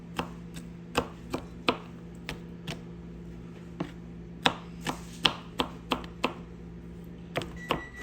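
A knife chopping garlic on a cutting board, sharp irregular taps in quick clusters, close and clear over a steady low kitchen hum.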